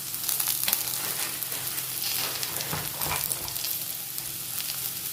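Cumin and coriander seeds fry and sizzle steadily in a pan for green masala ghee rice, with a bright continuous hiss and occasional scraping stirs, close and moderately loud, no talking.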